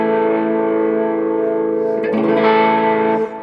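Stratocaster electric guitar played through the Wilshire amp model on a Boss GX-10, sustained chiming chords with light grit and reverb, a brighter strum near the end, steady and close with no talking.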